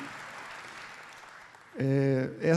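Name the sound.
audience applause for the organizing team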